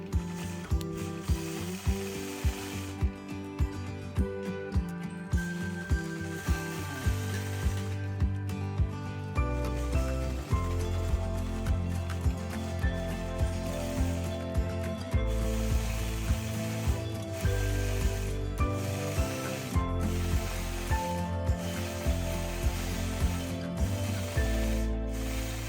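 A quilting sewing machine stitches filler quilting around the outside of appliqué pieces, its steady rapid mechanical chatter running continuously and fairly close, with a rhythmic clicking pulse throughout and no talk.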